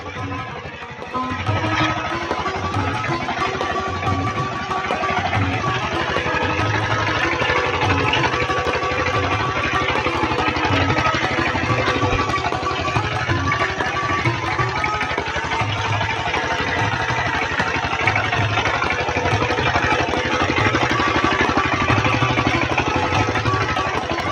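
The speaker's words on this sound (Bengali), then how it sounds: "এই দিকে মোটর দিয়ে জল বেরোচ্ছে দেখুন" An irrigation motor pump pumps water into a rice paddy being prepared for planting seedlings, running loud and steady with a regular chugging, clattering pulse throughout.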